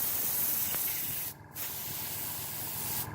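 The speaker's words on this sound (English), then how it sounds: "If you're not sure if your airbrush is spraying" An airbrush spraying onto tissue paper, a steady close broadband hiss that cuts off briefly twice as the trigger is released, then resumes.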